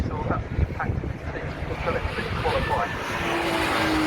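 Classic Porsche race car passing on a track at the Snetterton circuit, a loud engine roar with wind buffeting the microphone as it goes by.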